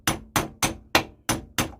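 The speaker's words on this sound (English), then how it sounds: "tapping in there. It's so easy with a hammer." Hammer tapping spindle bearings into a John Deere 42-inch cutter deck: six sharp metallic taps in an even rhythm, close and loud, with no talk.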